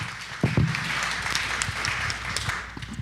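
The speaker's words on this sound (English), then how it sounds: "Could we just give our panel and our moderators another round of applause?" Audience applause for a panel and moderators at a technology jobs forum in DC, a moderately quiet, scattered round of clapping with a few louder claps near the start, continuing steadily to the end.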